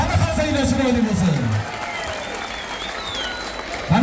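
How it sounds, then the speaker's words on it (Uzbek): A crowd applauds at an outdoor Independence Day celebration in Sariosiyo, a broad wash of clapping that continues under a speaking voice and tonal music, then thins slightly partway through. "Qani qarsaklar chiroyli bo'lsin."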